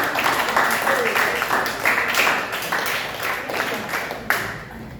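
Steady crowd applause after a group presentation in a class fills the room, a dense wash of many hands clapping at once, with a voice faintly audible beneath.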